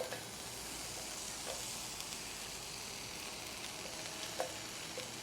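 Onions sizzle in hot oil in a pan for a Caribbean coconut curry rabbit, a steady, even hiss with occasional faint pops and stirring clicks, heard alone without talk.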